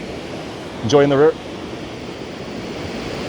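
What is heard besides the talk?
creek water rushing near Choke Creek Falls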